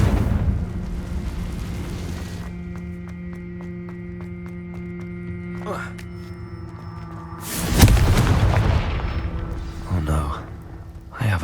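A Confringo fire spell bursts in Hogwarts Legacy, a sudden loud booming blast over a sustained hum and droning game score, with a second smaller burst a moment later.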